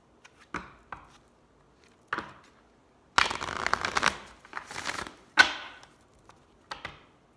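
Oracle cards shuffled by hand in short bursts: scattered riffling flicks, then a longer run of rapid papery riffles in the middle, followed by a sharp snap and a few softer taps, close and without talk.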